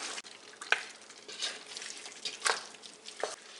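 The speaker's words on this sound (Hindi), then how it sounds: "इसमें डाल लेते हैं इसको ये स्पाइस डाल के 4 से 5 मिनट्स पका लेते हैं।" Spices fry in a pan for beef nihari, giving a close, moderate sizzle with a few sharp stirring scrapes and pops over a few seconds, with no talking.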